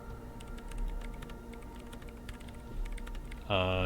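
Keyboard typing in the video game Disco Elysium, a steady patter of clicks over a low ambient hum, ending as a machine whirs loudly back to life.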